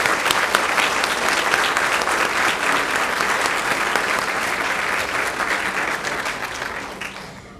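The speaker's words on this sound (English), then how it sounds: "so give them a round of applause" An audience giving a round of applause for students at a recognition ceremony, many hands clapping steadily and loudly before the sound gradually thins and fades toward the end.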